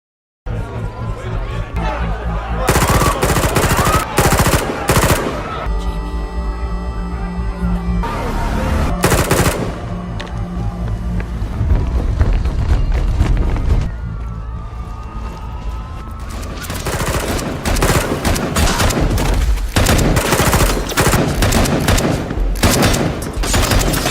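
Sustained automatic gunfire and bursts of shots ring out through a film firefight scene set during a bank robbery by two ex-Marine brothers, loud and dense, with brief lulls and crowd noise underneath.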